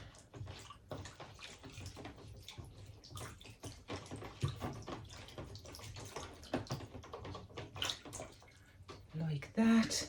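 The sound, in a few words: water rinsing plant leaves during repotting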